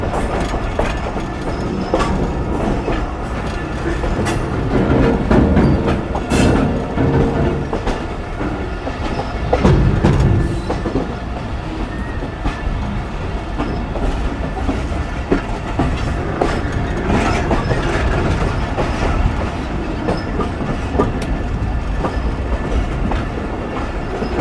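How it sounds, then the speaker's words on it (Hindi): The Millat Express rolls along the tracks in Pakistan and crosses onto another line, with a continuous loud rumble, rhythmic clickety-clack of wheels over rail joints and brief squeals, heard from on board. "हमारी ट्रेन अभी ट्रैक चेंज करके चन्नीउड वाली साइड पर जा रही है"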